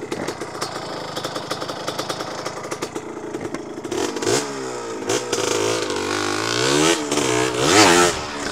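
A motorcycle engine revs repeatedly, rising and falling in pitch as it accelerates, loud and close, with a steady idle rumble before the revs build.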